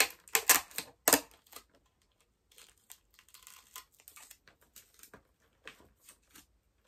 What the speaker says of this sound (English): Just get a piece of tape and put across.